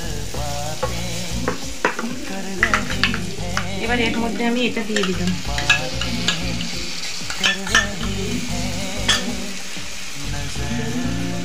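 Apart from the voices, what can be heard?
frying and stirring paneer dish in a pan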